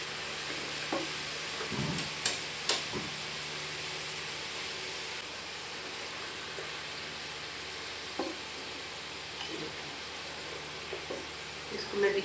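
Bitter gourd fries in hot oil in a pan with a steady, faint sizzle, broken by a few soft knocks and clicks of a utensil against the pan.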